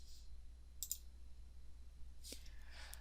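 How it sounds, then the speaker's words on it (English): A quiet mouse click sounds on Edit in Canvas, followed by a couple more faint clicks later, with a low steady hum behind. "So I'm going to click on Edit"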